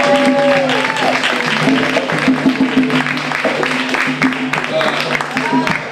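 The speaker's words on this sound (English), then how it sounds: "let's give him a nice round of applause" A round of applause at a Kwanzaa celebration in East Palo Alto: broad, continuous clapping from the crowd, with voices and tonal sounds running over it throughout.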